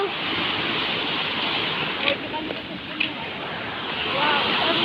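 Ocean waves at a beach beside a bridge: a steady, loud wash of surf with wind noise running throughout, plus a couple of brief knocks, and a voice faintly audible at moments.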